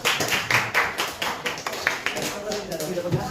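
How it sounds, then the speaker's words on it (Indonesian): Students in a high school classroom applaud a presenting group, with a burst of fairly close, uneven hand claps that thins out after a few seconds under some background voices. "Berikan aplaus untuk kelompok kedua"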